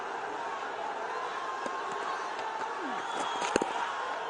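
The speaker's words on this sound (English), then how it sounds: "Amazing atmosphere here at the Sharjah Cricket Stadium." A large cricket crowd at Sharjah Cricket Stadium during a Bangladesh versus Afghanistan one-day international keeps up a steady, distant roar of chatter and cheering, with occasional whistles rising above the broad din.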